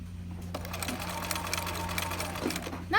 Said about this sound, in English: So now it's gonna sew that wide zigzag that would be like the top of my buttonhole.